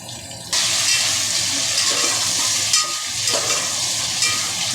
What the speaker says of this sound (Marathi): सगळ्या भाज्या तेलामध्ये परतून घ्यायच्या आहे.